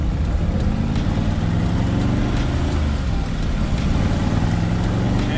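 A 572 big block V8 in a 1968 Corvette shooting brake runs nearby, producing a loud, continuous deep rumble that stays steady from start to finish.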